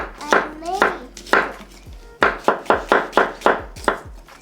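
Onions chopped with a knife on a board, a steady series of crisp, close chops, around a dozen in quick rhythm, with no one talking.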